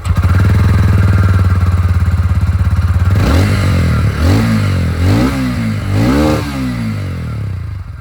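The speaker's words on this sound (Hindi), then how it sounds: "तो ये तो यहाँ पर रॉनिन की आवाज़।" A TVS Ronin 225 motorcycle exhaust with a metallic muffler cover: a steady close idle, then several sharp throttle blips that rise and fall in pitch, loud and alone.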